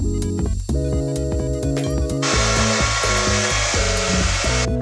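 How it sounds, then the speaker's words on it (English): A hair dryer on a medium setting blows over liquid latex special-effects makeup, a loud continuous motor whine and rushing air that steps up in intensity partway through over a rhythmic background beat. "we're gonna dry the liquid latex so we can add more layers"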